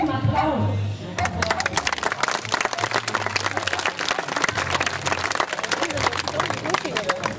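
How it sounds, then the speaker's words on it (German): Audience applause at a chicken training show, dense clapping that runs steadily through most of the stretch with a voice talking over it. "Und wissen Sie was? Hühner lieben"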